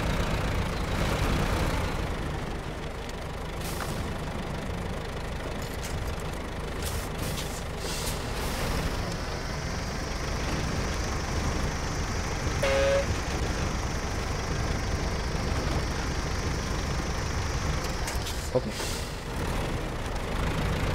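A heavy tractor engine idles and rumbles steadily at close range, with occasional clanks and a brief hiss partway through; no one speaks.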